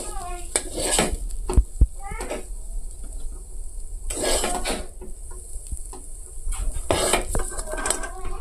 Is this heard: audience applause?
no